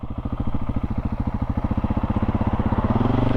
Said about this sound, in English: Under load like this, it goes in really easy